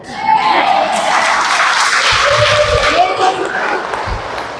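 A congregation at a church service claps and cheers, and a voice calls out over the crowd noise. The sound stays fairly steady throughout.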